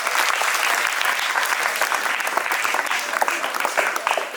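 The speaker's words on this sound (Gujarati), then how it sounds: "ફરી જોરદાર તાળીઓ થઈ જાય." Sustained audience applause at a school cultural program with a puppet show, steady dense clapping from a crowd filling the whole stretch at even loudness.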